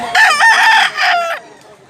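A gamecock bought at a Cebu poultry sale crows once, loud and close, a strained drawn-out call that breaks in the middle and fades off, with no talk over it.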